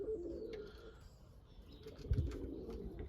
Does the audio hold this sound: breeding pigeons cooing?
yes